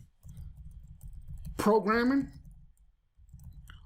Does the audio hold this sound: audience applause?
no